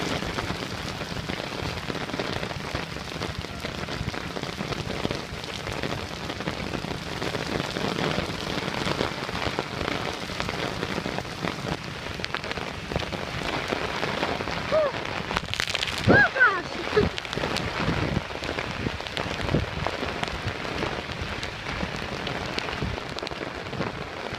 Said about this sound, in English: it started raining worse, and then it started hailing